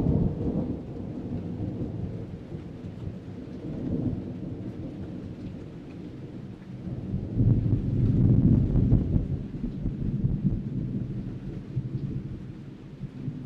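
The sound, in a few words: rolling thunder in a storm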